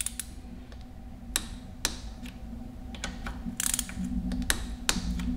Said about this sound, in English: And then these get torqued down to 9 foot-pounds or 108 inch-pounds.